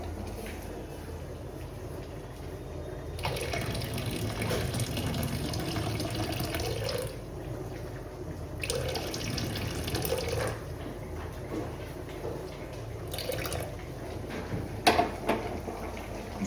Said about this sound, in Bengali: বেশি হয়ে গেছে জলটা, দাঁড়াও একটু জলটা ফেলে দিই।